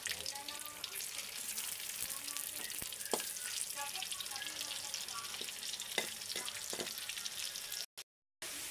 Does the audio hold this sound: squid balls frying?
yes